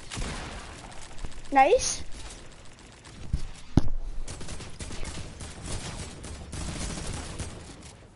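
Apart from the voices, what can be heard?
gunfire shooting zombies in a video game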